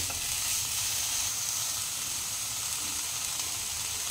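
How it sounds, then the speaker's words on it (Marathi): Finely chopped fenugreek leaves stir-fry in a pan for methi matar malai, a dense, even sizzle of frying that holds steady and loud throughout, close up and with no voices. "छान मेथी अशी आकसून येईल, मस्त एकजीव होईल तोपर्यंत तिला परतायचे"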